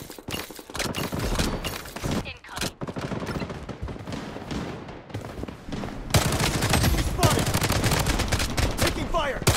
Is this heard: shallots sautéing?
no